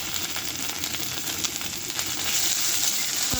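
Ginger-garlic paste and biryani spice mix sizzle with fried onion in a pan for egg biryani, a close, continuous crackling fry with light stirring.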